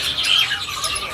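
Asian pied starlings in a bird kiosk chirp in high, bright bursts over a busy market background.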